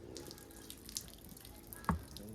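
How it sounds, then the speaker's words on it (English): Water splashes and trickles from a pipe onto ackee being washed outdoors in the Jamaican countryside, with soft intermittent drips and one sharper splash near the end. "You have to go get some more water from the pipe. Yeah, man, just throw water."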